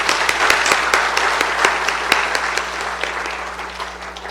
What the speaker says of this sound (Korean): 뜨겁게 열광해 주신 우리 이성희 원로 목사님 다시 한번 감사의 박수 하겠습니다